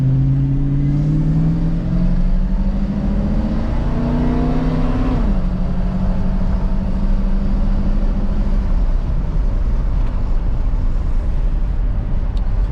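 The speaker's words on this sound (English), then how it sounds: "that was probably a half throttle acceleration. Pulls really, really well" A Ford F150 pickup engine running on gas accelerates at half throttle, a loud steady drone whose pitch climbs, drops at a gear change and holds under constant road and wind noise.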